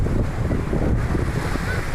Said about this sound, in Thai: โอ้ย บานาน่าโบ๊ท